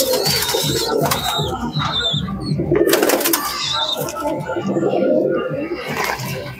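Giribaz pigeons coo in a loft, soft rolling calls rising and falling close by while someone talks over them.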